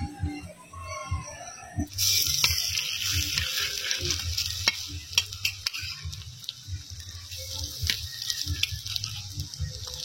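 Breakfast food frying in oil in a pan at a village home, stirred throughout: a bright, loud sizzle bursts in after a short quieter start, then continues steadily with scraping and clattering from the stirring.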